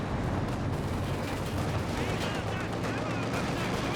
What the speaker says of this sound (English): we've got mortars hitting the Sturm Pioneers